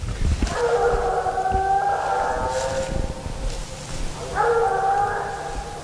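A treeing walker hound on a track bays in long, drawn-out howling barks, two sustained calls separated by a pause, loud and carrying, with some rustling beneath.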